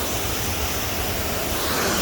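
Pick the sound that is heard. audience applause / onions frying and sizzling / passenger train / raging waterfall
raging waterfall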